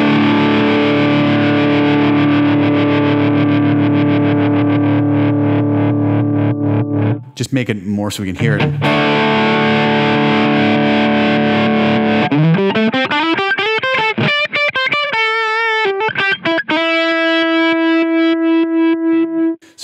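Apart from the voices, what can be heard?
guitar optical tremolo before distortion, Line 6 Helix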